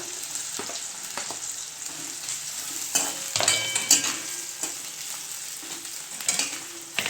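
Onion and green chillies frying in hot oil for aloo manchurian, a continuous sizzle with scraping stirs and a few louder crackling bursts partway through, close and without talk.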